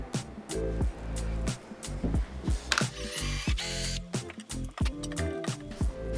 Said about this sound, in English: the drill bit I want to use is going to be the same size or slightly bigger than the screw